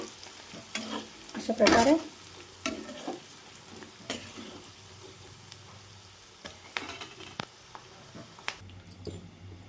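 Coarsely ground chana dal with red chilli powder and salt fries and is stirred in a pan, a soft sizzle with scraping strokes and one louder stir near the start, while a voice speaks briefly.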